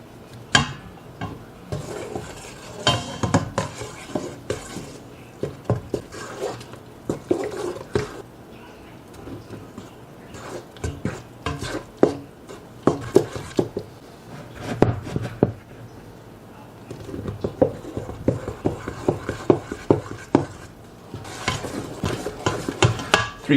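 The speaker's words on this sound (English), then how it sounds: "start with this 1 cup at a time and start stirring it in" Flour being stirred by hand into wet bread dough in a bowl for a first homemade loaf, with irregular scraping and thudding strokes of a spoon repeating steadily and close up, no talking.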